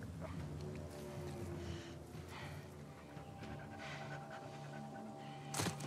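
Dog panting in the video game The Last of Us Part II, a steady breathy rasp running under busy game ambience and music, with a sharp louder burst near the end.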